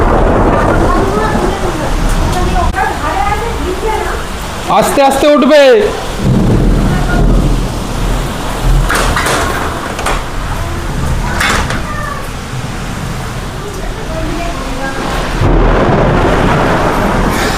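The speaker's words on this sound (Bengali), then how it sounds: "বৃষ্টি হচ্ছে, দেখি।" Rain and thunder from a sudden heavy storm at a house, a continuous wash with low rumbles and a door sliding, while people talk nearby.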